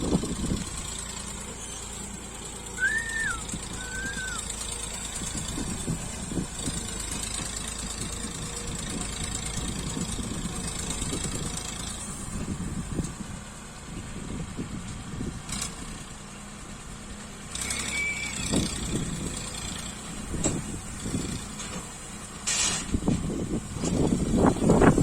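A Massey Ferguson tractor pulling one trolley runs with a steady, rumbling mid-pitched engine drone throughout, mixed with broadband outdoor noise, a few faint high chirps and occasional knocks.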